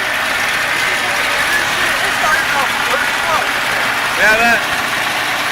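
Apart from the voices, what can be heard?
Nissan 720 truck engine running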